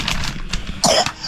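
A single short, rough cough close by, with a brief throaty burst standing out over quiet background noise.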